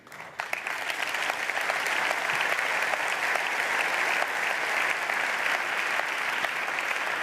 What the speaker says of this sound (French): vos applaudissements et son sourire nous invitent évidemment à poursuivre ces recherches